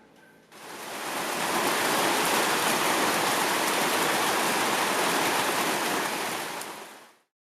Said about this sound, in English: the rain suddenly appeared, and my gaping hole was almost instantly filled with water and life